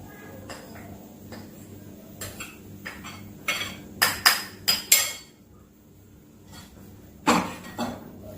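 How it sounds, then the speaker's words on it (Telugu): Foxtail millet rice is tipped into a clay pot, giving a run of hard, close clinks and knocks of varying loudness, bunched in the middle with a final clatter near the end. "ఈ కొర్ర రైస్ని ఏం చేయాలి ఈ కుండలో వేయాలి"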